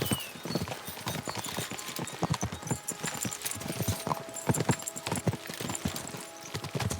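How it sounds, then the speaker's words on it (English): Horses gallop steadily in a medieval setting, hooves pounding in a fast, continuous drumming rhythm that stays close and loud for the whole stretch, with no talk over it. "We should spur the horses on."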